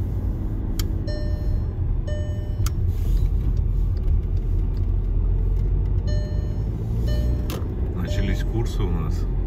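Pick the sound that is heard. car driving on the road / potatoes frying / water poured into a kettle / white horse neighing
car driving on the road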